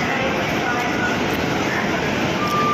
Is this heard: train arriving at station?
yes